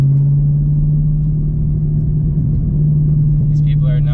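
A Chevrolet Camaro ZL1 1LE engine drones with a deep, steady rumble close by, held at an even pitch, with a brief higher scrape of spinning tires near the end.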